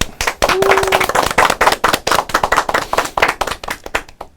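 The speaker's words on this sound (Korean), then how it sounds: "박수 부탁드립니다" A talk-show studio audience at a Korean political party event bursts into loud, close applause, sharp dense clapping with a pulsing rhythm that carries on for several seconds after a brief voice at the start.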